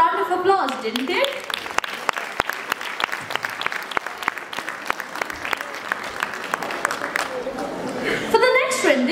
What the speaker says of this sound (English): That deserved a round of applause, didn't it?